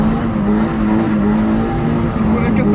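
A Mazda car pulls away hard on a wet closed road, its engine droning steadily and loudly throughout with a constant tonal hum, captured from inside the car.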